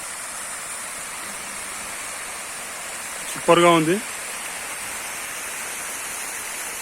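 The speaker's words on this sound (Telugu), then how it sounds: "ఫౌంటైన్" A water fountain splashes in a steady, even hiss of falling water that fills the whole scene, with one brief spoken remark from a nearby person midway.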